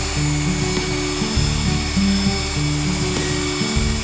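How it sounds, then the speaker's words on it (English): An angle grinder with a large buffing wheel whines steadily against a school bus body as it strips off reflective tape, its pitch shifting up and down in short steps as the load changes, loud and close throughout. "It's got a big old grinding, buffing wheel on it."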